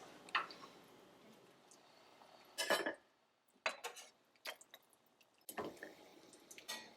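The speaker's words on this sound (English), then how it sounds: "Then I'm going to take out the ox bones." Heavy ox bones lifted out of a pot of ox bone soup on a stovetop, with a few clattering knocks and watery drips and splashes in separate bursts, fairly close and moderately loud, with quiet gaps between them.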